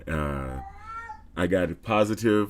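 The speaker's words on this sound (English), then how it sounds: "That's from my cat." A pet cat named Neon gives a long, drawn-out meow, close and clear, with a person talking just after it.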